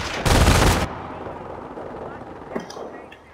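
A burst of machine gun fire from Company of Heroes, a World War II strategy video game, rattles loudly for about half a second, followed by a faint lower battle rumble and a brief distant thud.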